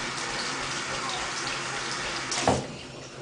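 Tap water runs steadily over a Fallout 3 game disc being washed at a sink, a continuous close splashing hiss with a brief louder gush near the end.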